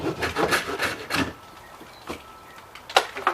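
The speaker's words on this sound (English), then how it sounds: "the saw doesn't cut that well on that" A hand saw rasps through water-damaged ceiling drywall in quick back-and-forth strokes, close and scratchy, then pauses briefly before a few more strokes.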